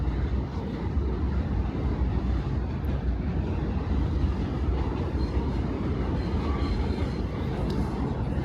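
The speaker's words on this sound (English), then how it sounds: "there goes the D train over the train trestle" An elevated D subway train rumbles steadily across a trestle in Bensonhurst, Brooklyn, a continuous low roar with faint rattling, heard from nearby without any voices.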